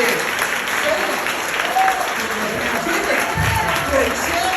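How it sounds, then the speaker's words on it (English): An audience applauds together at a campaign kickoff, steady clapping that carries on for several seconds, with a voice speaking over it. "Clap for each other."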